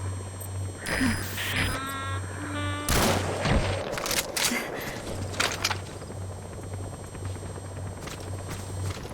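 Gunfire in Metal Gear Solid V: The Phantom Pain, heard as a few sharp bursts and booming impacts over a steady low mechanical drone and scattered game sounds.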